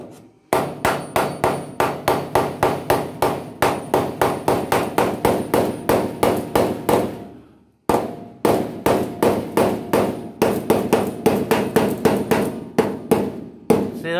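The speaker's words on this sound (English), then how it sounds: "you can also just take your normal hammer" Hammer strikes ring out loudly in fast, regular bursts of sharp blows inside a bus being renovated, with a short pause midway before the rapid hammering resumes.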